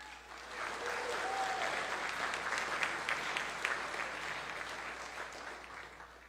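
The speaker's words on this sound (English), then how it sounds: "So an applause for them, please." Steady applause from a crowd at a chess event, sustained clapping throughout with no voices standing out.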